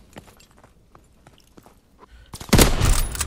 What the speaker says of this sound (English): This gun sounds crazy when it shoots, bro.